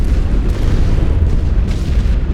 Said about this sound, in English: More heavy artillery. Bring it on.